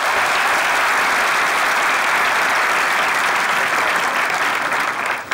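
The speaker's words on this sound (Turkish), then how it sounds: "Cemo ile Begüm'e bir alkış" A studio audience at a sketch comedy show applauds, a dense and loud wash of clapping that holds steady throughout and thins slightly at the very end.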